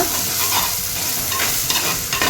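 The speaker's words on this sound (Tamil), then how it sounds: "இது நல்லா பச்சை வாசனை போகட்டும் நல்லா வதக்கிக்கோங்க" Ginger garlic paste sautéing with marinated prawns in a pan for prawn thokku, a steady close sizzle broken by scraping stirs near the end.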